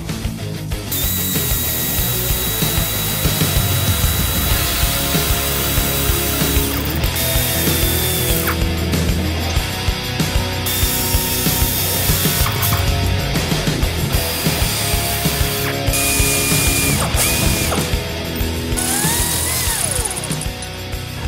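Golf cart axle being removed from its spring plate with power tools during an EZGO lift kit installation: a continuous loud mechanical whirring and grinding with intermittent high squeals and ratcheting bursts throughout.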